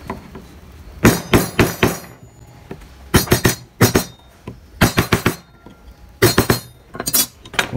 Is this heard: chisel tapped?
yes